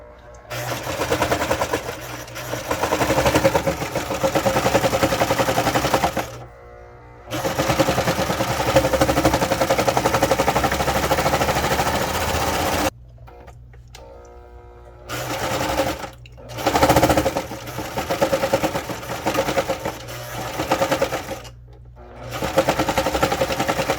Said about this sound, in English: she is going to serge the ends of this bag